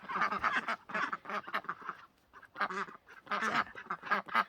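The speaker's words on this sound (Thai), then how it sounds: "อันนี้เป็ดใหญ่รุ่นแรก" Several large ducks quack loudly and close by in raspy bursts from a duck pen, with short pauses between the noisy groups of calls.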